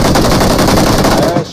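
Loud, rapid automatic gunfire from shooting in the mobile battle royale game PUBG Mobile fires as a dense, continuous burst and cuts off abruptly at the end.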